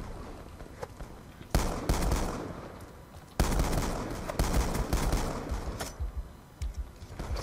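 Gunfire in the Black Ops 2 multiplayer shooter, heard as loud, close bursts of repeated shots with short gaps between them, set against constant battlefield noise.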